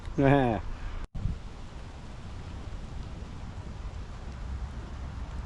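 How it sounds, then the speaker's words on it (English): Heavy rain patters steadily on a tent during a wet, cold autumn camp, a constant close hiss filling the background after a brief burst of a voice at the start. "it's pissing rain on me"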